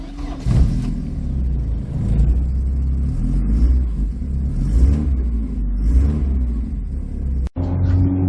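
A 1987 Porsche 924 S driving along, its engine rumbling and rising in pitch as it accelerates, steady road noise throughout, ending with a brief cutoff.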